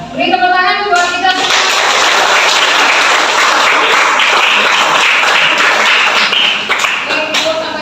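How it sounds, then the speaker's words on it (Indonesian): A classroom of students breaks into loud, sustained clapping for about seven seconds, with a few children's voices mixed in before it tapers off. "saya beri tepuk tangan buat kita"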